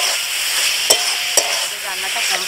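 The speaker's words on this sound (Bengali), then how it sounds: "এটা দেওয়ার পরেও ভালো করে ওটাকে নেড়ে নেবে" Taro leaf greens with whole green chillies are stirred in a pan over a constant sizzle, two sharp spoon scrapes knocking against the metal close by, with no talking.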